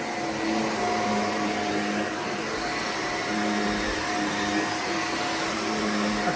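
A Shark vacuum cleaner with a headlight runs on the carpet of a holiday lodge, giving a continuous close motor whine with a steady hum that rises slightly as it is pushed.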